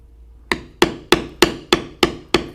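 A leather bevelling tool is struck seven times at a steady, even rhythm while carving a moose design, each tap a sharp, close knock with a quick decay and no talk.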